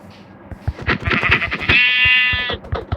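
A sheep in the Minecraft video game bleats repeatedly up close, a rapid run of short bleats ending in one long wavering bleat, with a faint backing hum.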